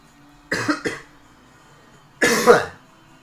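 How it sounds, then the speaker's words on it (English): Two separate bursts of coughing, a quick double cough followed after a pause by a longer, harsher cough, close and clear. "I'm coughing pretty often."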